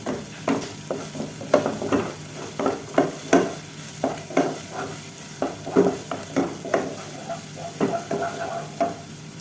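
A teaspoon of crushed ginger and garlic fries in a pan for a spicy chicken curry, sizzling under a rhythmic run of loud, close scrapes and knocks from a stirring spoon, with no voices.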